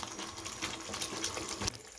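Mughalai-style egg curry gravy simmering on a low flame, a steady close bubbling and burbling with small pops that continues without a break.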